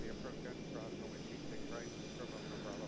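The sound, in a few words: Milviz 737-200 airliner taxiing, from a flight simulator game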